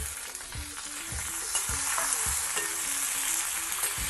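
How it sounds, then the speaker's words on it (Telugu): Five or six tomatoes fry in reddened tempering oil with asafoetida, sizzling loudly and continuously while a spoon scrapes the pan in a regular rhythm of soft knocks. "ఇందులో ఇప్పుడు 5-6 టమాటాలు మనం తినే పులుపుని బట్టి వేసి మగ్గించుకోవాలి"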